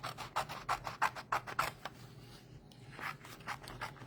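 Paper being snipped for a stamped note pad craft: a run of quick, close scissor cuts with a crisp rhythm for about two seconds, then a pause and a few more rustling cuts.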